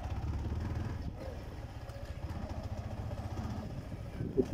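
A new motorcycle engine idles steadily close by, a low throbbing rumble throughout, with a couple of louder blips near the end.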